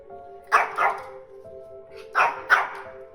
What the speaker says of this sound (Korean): 강아지가 짖는 소리에 화들짝 놀라 잠에서 깼습니다